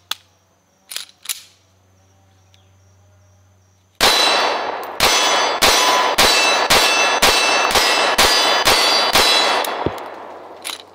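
SCCY CPX-2 pistol firing a magazine at a range, a few scattered sharp sounds, then about ten loud, evenly spaced shots in quick succession with ringing after each.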